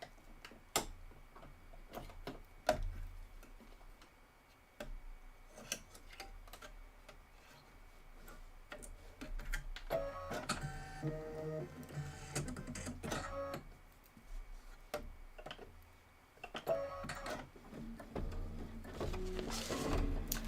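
An embroidery machine stitches out the stem detail of a toadstool design with rapid mechanical ticking and clatter. It runs in uneven busy stretches with louder dense passages and brief pauses.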